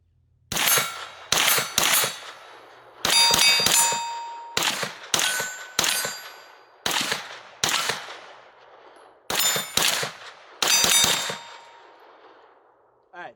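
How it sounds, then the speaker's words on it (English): Rapid strings of 9mm shots from a Troy A4 pistol caliber carbine, each burst ringing off steel targets with bright metallic clangs and decaying tones, about ten separate volleys spaced across the string, loud and close with no talking. "let's load up some mags and put some rounds down range"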